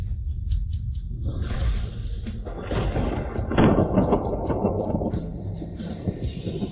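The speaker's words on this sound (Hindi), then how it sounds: "हवा, बारिश, बिजली और गड़गड़ाहट सब एक साथ हो गए।" A video game water skill unleashing a thunderstorm with rain: constant rumbling thunder and hissing rain, rising into a loud crackling lightning burst about midway before rolling on.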